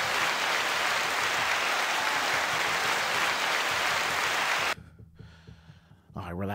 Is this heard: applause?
yes